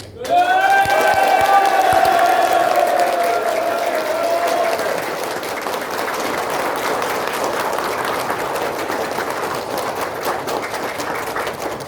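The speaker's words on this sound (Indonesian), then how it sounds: "Saya kepingin tepuk tangan yang ikhlas buat diri Anda sendiri." Seminar audience in Indonesia breaks into sustained applause, dense hand clapping rising fast and staying loud for about twelve seconds, with a voice rising over the start and some crowd noise mixed in.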